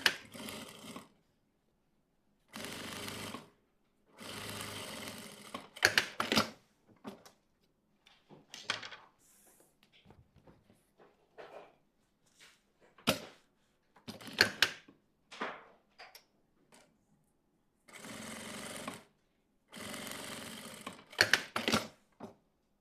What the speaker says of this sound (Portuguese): vou costurar de um lado e do outro